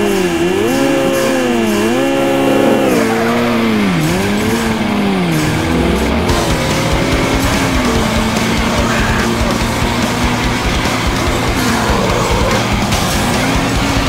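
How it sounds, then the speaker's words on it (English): A Nissan GT-R race car engine in the 2005 street racing video game Street Racing Syndicate, revving and shifting loudly through rising and falling gears before settling into a steady, sustained high drone. "You're racing in the GTR today."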